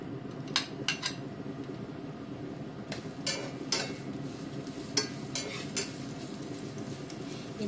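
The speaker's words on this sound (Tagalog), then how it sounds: "So ayan, medyo mainit na po yung ano, yung ating oil. So ilalagay ko na po yung sibuyas." Chopped onion goes into hot cooking oil in a home kitchen pan, giving a steady low sizzle with several sharp clinks of a utensil against the pan throughout.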